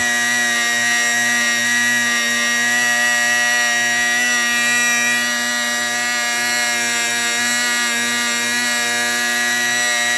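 A DIY mini mill cutting with a shortened bit gives a loud, steady, high-pitched mechanical whine with strong ringing overtones, continuous and unbroken throughout.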